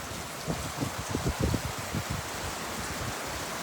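Steady rain falls on a farm, a dense even hiss broken early on by a few soft low thumps of drops or water, with no talk.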